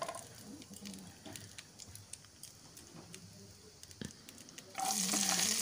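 Black cumin seeds frying in hot oil while being stirred, a faint steady sizzle with soft scraping taps, swelling into a louder, brighter hiss near the end.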